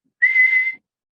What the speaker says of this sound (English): these birds have also got a single call, very high-pitched whistle,